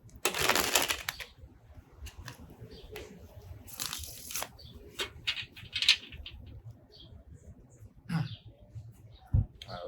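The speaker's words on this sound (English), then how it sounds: "Let's go ahead and shuffle one more time." Tarot cards are riffled and shuffled in quick bursts close by, with soft shuffling, tapping and handling noises in between.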